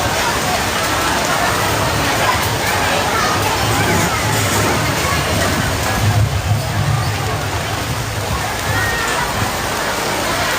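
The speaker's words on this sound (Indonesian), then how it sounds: "kami infokan untuk kegiatan karena situasi sudah hujan" Steady rain falls on an outdoor tent at a religious lecture gathering, a dense continuous patter with low rumble throughout, with a voice talking faintly beneath it.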